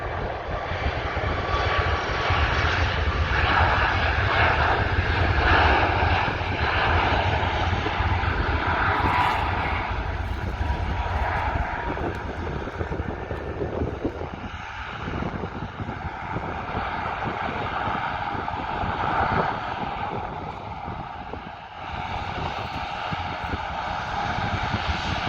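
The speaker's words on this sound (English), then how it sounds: "No, it's a Beechcraft King Air that's coming." A Beechcraft King Air turboprop passing overhead near Dublin, a steady, loud propeller and engine drone that swells and fades slightly over about twenty-five seconds, with no voices.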